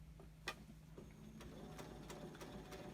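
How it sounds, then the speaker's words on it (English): Sewing machine stitching slowly along the torn perforated paper edge of a quilt block template, a steady quiet mechanical whir with light periodic ticks, heard close and alone. "I am just going to sew right along the edge, the perforated edge that I've torn off"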